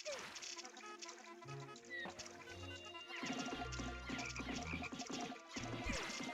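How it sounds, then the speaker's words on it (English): A frog in the Pikmin video game gives several deep, low croaks amid game music and sound effects, while a person talks over the gameplay. "this frog is fucking me up again"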